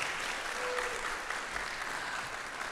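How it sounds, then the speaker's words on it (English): Church congregation applauding, a sustained wash of many people clapping at even intensity from across a room, alone with no talk over it. "You can give her a round of applause."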